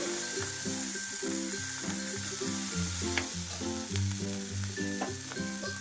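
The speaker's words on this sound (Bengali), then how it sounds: "সব স্লো টু মিডিয়াম ফ্লেমে 2 মিনিট মতো ভেজে নেব।" Chopped onion, tomato and capsicum frying in a pan over a slow to medium flame, a steady soft sizzle under a repeating patterned background tune, with no one talking.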